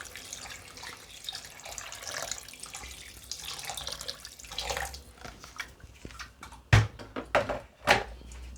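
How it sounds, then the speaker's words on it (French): Tap water runs and splashes into a cooking pot while peanut sauce mafé is being prepared, a steady continuous rush followed by a few sharper splashes and clunks near the end, close and moderately loud with no talking. "Je vais mettre un peu d'eau."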